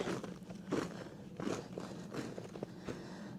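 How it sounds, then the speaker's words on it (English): Footsteps crunch on icy ground outdoors on a 1.2-acre property after stormy weather, a steady walking rhythm of four or five close, moderately loud crunching steps. "The crunching on the feet."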